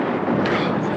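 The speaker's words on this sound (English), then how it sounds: "Hey, Skip, they're firing on us." Guns fire from a battleship at a small boat: one loud, dense, booming blast that fills the whole moment with a rumbling roar.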